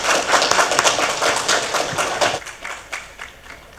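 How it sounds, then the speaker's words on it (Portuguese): An audience at a health and politics conference applauds a speaker called to the stage, dense, lively clapping that thins out and fades over the last second or so. "Uma salva de palmas."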